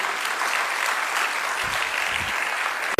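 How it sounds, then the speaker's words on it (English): Round of applause from an audience at an international conference, continuous dense clapping held at an even level throughout. "Please, can we give another round of applause for Alejandro?"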